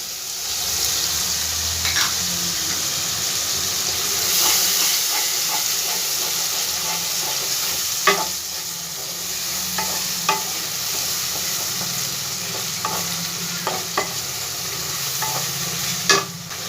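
Ginger garlic paste fries in a pan with chicken and cauliflower, a loud steady sizzle and hiss under repeated clinks and scrapes of a stirring spoon, close up.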